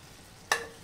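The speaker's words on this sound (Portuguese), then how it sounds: "Vamos refogar essa maravilha." Fava beans and pork ears being sautéed and stirred in a pan, giving a single short burst of sizzling that fades into a soft, steady frying hiss.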